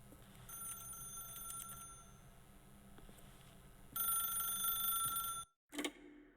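Telephone ringing in the video game The Stanley Parable, bright electronic rings in bursts with a louder final stretch that cuts off abruptly, followed by a short click.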